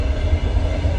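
A passenger train runs on the long journey from Kirov to Moscow, a loud continuous low rumble and rolling roar of wheels and carriages heard from on board, steady with no voices.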